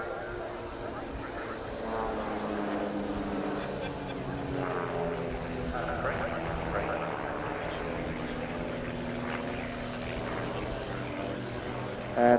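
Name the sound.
display aircraft breaking out into Cuban manoeuvres at airshow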